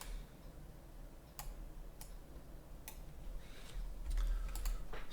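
Computer keys pressed while working in Maya 3D modelling software, a few sparse, sharp clicks spaced irregularly, then a quicker cluster of taps near the end over a quiet low room hum.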